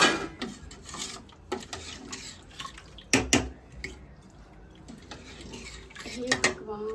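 Metal pots and utensils clatter and clink in a home kitchen in a search for a tawa. Knocks and scrapes come in bursts, some sharp and close, over faint dripping, with no talk.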